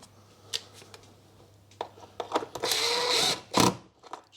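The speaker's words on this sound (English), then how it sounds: "Just nip up the bolts." Bolts are tightened on the plastic air filter housing of a 2016 Ford Focus 1.5 TDCi, with scattered close clicks and taps and then a short, loud whirring burst of a tool.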